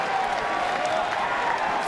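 Steady applause and crowd noise from a packed college baseball stadium during a North Carolina versus Florida State game, a continuous wash of clapping with no single standout moment.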